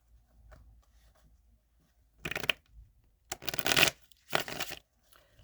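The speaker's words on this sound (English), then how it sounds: "One more shuffle." A deck of tarot cards shuffled by hand in a few quick, crisp riffling bursts close to the mic, separated by short pauses in an otherwise quiet room.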